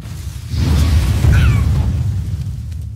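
A missile blast in a video game pet battle bursts out with a deep boom and a whooshing rush, followed by a fading rumble over a few seconds.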